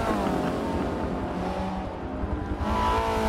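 A Ferrari F430-based race car in Forza 7 at the Hockenheimring sweeps through the final chicane, its engine droning steadily and loudly with shifting pitch and faint tyre noise, with no pauses.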